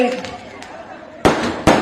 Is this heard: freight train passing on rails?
no